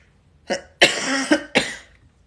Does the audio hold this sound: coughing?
yes